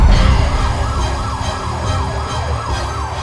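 Ambulance siren on a flooded Philippine street, a loud, steady rising-and-falling wail over heavy engine and road rumble, with no voices.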